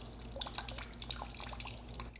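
Water drips from leaks inside a house, a series of small, irregular drops falling close by, with a low steady hum underneath and no talking.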